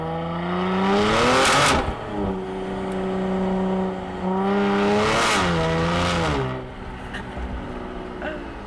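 A 520 HP Genesis G70, driven hard, roars through two rising acceleration pulls with a brief dip between them, then eases to a lower drone. The sound is loud and close.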